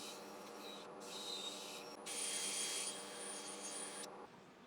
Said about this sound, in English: So now that's the sanding all done.